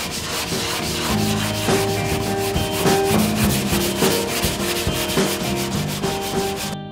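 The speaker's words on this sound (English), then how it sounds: "just brush the base of the snowboard" Someone scrubs a brush briskly across the base of a snowboard before waxing, a close, continuous rough rubbing in quick back-and-forth strokes, with no talking.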